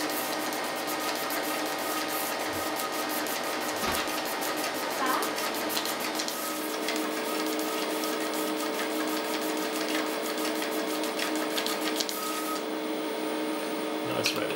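A high-speed paper tape reader on a PDP-11/10 feeds a BASIC program in with a continuous loud mechanical whir and rapid ticking, running jumpily line by line with small shifts in pitch.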